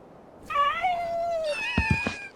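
A cat in Final Fantasy VII Rebirth gives two drawn-out meows, the first a long falling cry and the second a strained, rougher call, heard close and clear in a quiet game scene.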